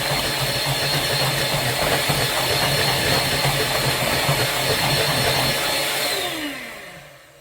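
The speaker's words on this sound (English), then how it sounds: "give it a good whisk around the edges" A whisk beating Yorkshire pudding batter gives a steady, loud whirring churn that runs without a break for about six seconds, then fades and stops.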